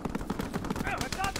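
Rapid automatic gunfire from the video game Call of Duty WW2 rattles in a fast, even stream of loud shots, with other game sounds layered on top.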